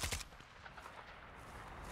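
Gunfire in Call of Duty Warzone: a loud burst of shots at the start, followed by a steady dense wash of game battle noise.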